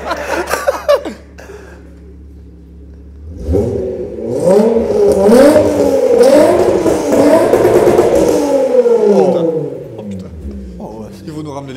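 A tuned Golf 4 TDI with 317 hp revs up hard after a quiet idle, its engine climbing and falling through several loud, rising pulls close by, with people talking and laughing around it.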